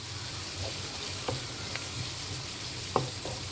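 Freshly added onions sizzle in hot oil with cumin seeds for a chicken curry, a steady, fairly even frying hiss with a few faint clicks and light stirring scrapes.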